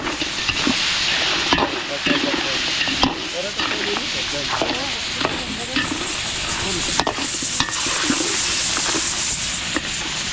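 Mixed seafood sautés in butter with garlic and onion for resort catering, a loud, continuous close sizzle and hiss with frequent scraping stirs of a utensil in the pan, and no talking.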